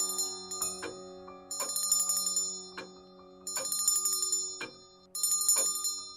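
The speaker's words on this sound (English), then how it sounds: "Just ring the bell if you need anything." A small hand bell is shaken in repeated bursts of bright metallic ringing, close and clear, with brief pauses between rounds and no voices.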